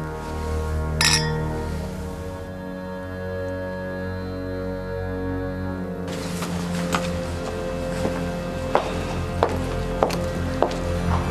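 Glasses clink together in a toast with one sharp, bright chime near the start, then several lighter clinks and taps toward the end over a soft background of music.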